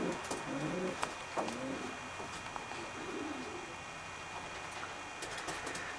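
Racing pigeons cooing in a loft, soft repeated low coos close by, with scattered faint clicks and rustles around them.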